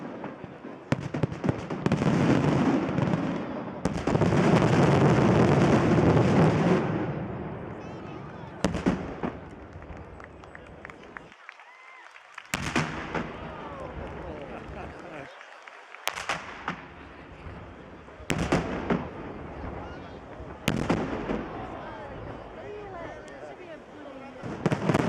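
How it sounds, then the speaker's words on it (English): Fireworks over the beach at Benidorm, with dense overlapping crackles and booms at first, then a series of loud separate bangs with echoing tails and gaps between them, while a crowd murmurs and people talk nearby. "when the fireworks start, the fireworks will be on the beach."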